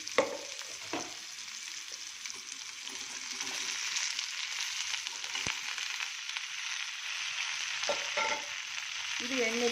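About a quarter kilo of finely chopped, washed okra frying in an onion tempering: a steady, close sizzle and crackle running the whole time, with scattered stirring scrapes and light clicks, and no voices.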